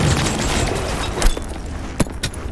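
Gunfire from the video game Cyberpunk 2077 erupts in a dense, continuous battle din, with a few sharper close shots standing out near the end.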